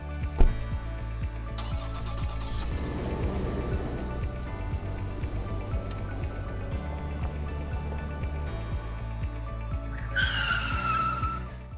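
A car pulls away with tires skidding and squealing, a sustained rumble of engine and road noise, rising to a sharp squeal near the end.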